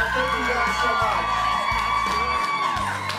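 An outdoor crowd at a backyard country BBQ concert in Anchorage, Alaska cheers and whoops loudly for a band, a dense sustained wall of voices with scattered shouts.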